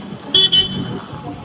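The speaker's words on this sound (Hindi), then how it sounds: "यहाँ पे बाबा गाड़ी निकाल रहे हैं।" A car pulls out while its horn gives two quick toots close by, over a steady low engine rumble.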